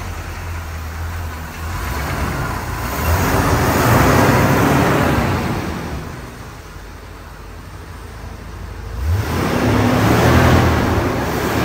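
A 1972 Rolls-Royce Mulliner Park-Ward coupe started with a turn of the key while warm. Steady engine rumble rises near the start, swells and eases, then surges again after a fresh rev, close and moderately loud with no talk.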